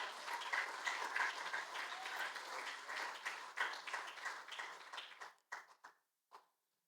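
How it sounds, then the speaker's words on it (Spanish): A church congregation claps loudly in a dense round of applause that tapers into a few scattered claps and fades to silence at the end. "Y ese aplauso es para el Señor, déselo fuerte."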